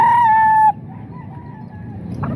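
A rooster crows once at a market, loud and close, then breaks off and leaves quieter ambient noise with a faint clucking hen.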